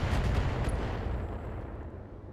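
Heavy weapon fire from battling mechs in the BattleTech video game, a loud rumbling barrage of booming shots that slowly fades over a couple of seconds.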